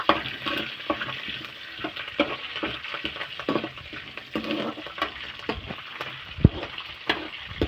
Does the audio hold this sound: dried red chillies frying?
yes